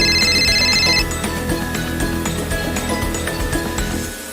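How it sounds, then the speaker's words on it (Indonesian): A telephone rings in a children's cooking segment, a repeating electronic ringtone with bright tonal pulses over a busy background of music or kitchen clatter, fairly loud and steady for about four seconds. "Telepon Miss Yuli berbunyi."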